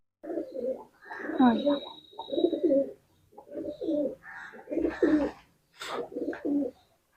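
Pigeons coo in several rounded, throaty bursts with short pauses between them, close by, with faint chirps mixed in.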